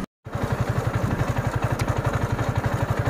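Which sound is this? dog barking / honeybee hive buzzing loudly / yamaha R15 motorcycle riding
yamaha R15 motorcycle riding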